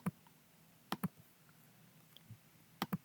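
A handful of separate, faint key clicks on a computer keyboard while entering input into a Python program, arriving in short pairs with quiet gaps between them and no voice.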